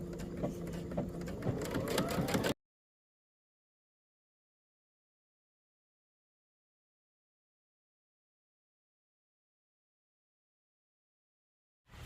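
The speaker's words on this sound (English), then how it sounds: "I'm going to take these pieces to the machine and stitch them." A sewing machine stitches bodice pieces for a Know Me ME2126 dress, running steadily for about two seconds before cutting to silence, with a short burst of stitching again at the very end.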